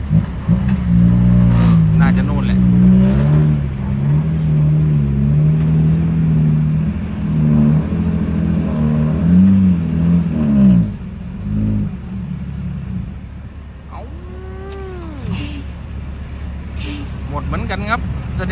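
A heavy model 195 machine working at railway earthworks in a sticky, swollen soil pit, a loud steady engine drone with rising and falling revs, then a break followed by quieter rumbling and high squeals.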